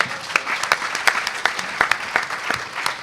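An audience at a hacker conference lockpicking talk claps in a moderate, fairly sparse round of applause, individual hand claps standing out in the room without any talk over them.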